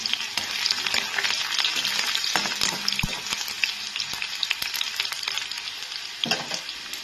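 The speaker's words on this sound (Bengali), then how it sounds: "এর মধ্যে এবার রসুন কুচিগুলোকে আমি দিয়ে দিচ্ছি" Chopped, lightly crushed garlic frying in hot oil after whole spices, heard up close as a dense crackling sizzle broken by frequent spoon clicks and stirring scrapes, with no voices.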